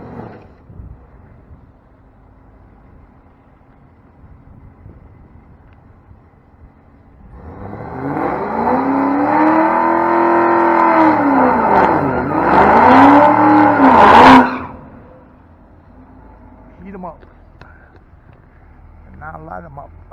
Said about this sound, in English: The sound of him going through those gears perfectly at the perfect RPMs